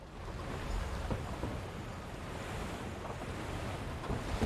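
Churning water in a trough in a fantasy video game gives a steady, broadband rushing and sloshing wash, like surf, holding an even level throughout with no voices.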